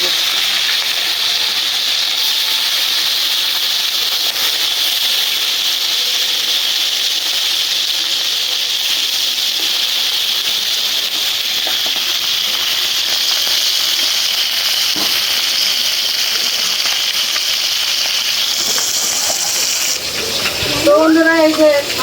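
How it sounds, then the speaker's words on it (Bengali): Fish frying in hot oil, with a steady loud sizzling hiss that runs unbroken for about twenty seconds, then briefly flares and crackles with a clatter near the end. "তেল গরম হয়ে গেছে দিয়ে দিলাম মাছ"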